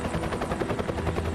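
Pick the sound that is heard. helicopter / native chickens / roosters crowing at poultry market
helicopter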